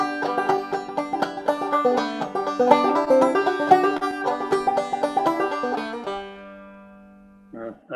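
An old-time banjo picked softly yet with a firm, even attack, a steady stream of bright plucked notes ringing close for about six seconds before the playing stops and the last notes fade into quiet.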